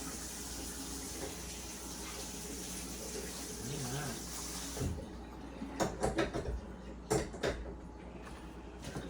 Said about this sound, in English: My cold water rinse potatoes.